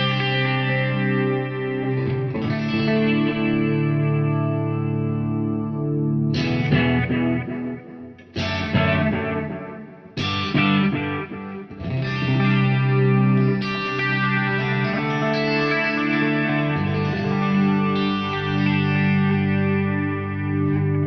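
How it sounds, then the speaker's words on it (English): Electric guitar through a Wampler Faux Tape Echo delay pedal, chords and notes ringing with repeating echoes and a light overdriven edge, several hard stops and restarts, loud and close with no talking. "The FAUX Tape Echo, of course, is a Wampler pedal."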